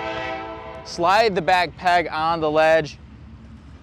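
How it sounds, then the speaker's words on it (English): A train horn sounds at a distance, a long steady blast with strong harmonic tones, under a voice talking beside a ledge outdoors. "I'm gonna wait for this train to go by real quick because he's being a little noisy."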